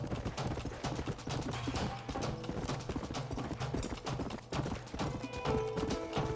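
Horse hooves galloping in the video game Red Dead Redemption, a fast continuous clip-clop rhythm up close, layered over a low in-game music or ambience bed with faint tonal sounds near the end.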